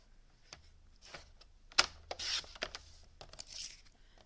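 Cardstock sliced on a paper trimmer for a card-making project: a sharp, faint snap of the blade followed by a short scraping rasp as the cut runs through, with light handling rustles around it in a quiet room.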